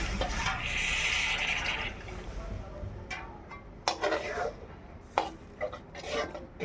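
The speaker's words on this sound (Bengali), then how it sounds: "এখন আমি এর মধ্যে জল দিয়ে দেব" Water poured into cooking masala for rui fish curry, a burst of rushing splash at the start, then clinks of a pot and utensils with a voice speaking over the clatter.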